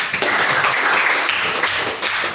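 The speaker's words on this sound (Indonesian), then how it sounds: "Tepuk tangan tuh dan tuh." A group claps during an Indonesian teachers' coaching session, a short burst of hand clapping in a room, moderately loud and close, with no talk over it.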